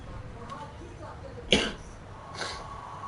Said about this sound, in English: Oh God, my cough.